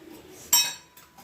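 A pan is set down on a kitchen stove while cooking a pepper mushroom gravy, making a single sharp metallic clink that rings briefly, then faint soft knocks.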